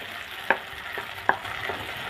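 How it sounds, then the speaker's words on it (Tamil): Ground masala being sautéed in oil in a pan for small-onion sambar, with a faint steady sizzle broken by two sharp stirring clinks of a utensil against the pan. "நல்லா இந்த எண்ணெயிலே கொஞ்சம் வதங்கணும் இந்த மசாலா."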